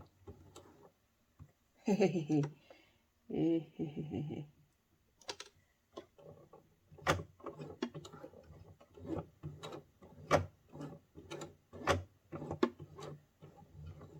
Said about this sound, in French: je vais finir à la main, en tournant le volant à la main, pour être sûr d'être au bon endroit à la fin de ma couture